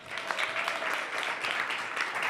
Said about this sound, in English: So give them another big round of applause for that